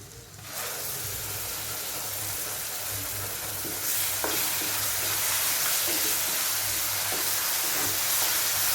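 Tomato puree sautés in a hot pan for fenugreek curry, a continuous close sizzle and hiss that grows louder partway through, punctuated by spoon scrapes from stirring.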